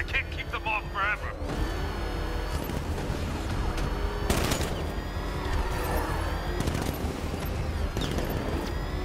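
Gunfire in the Batman: Arkham Knight video game, a dense stretch of rapid shots and crashing hits going on throughout, with a person talking over it and a sharp burst near the middle.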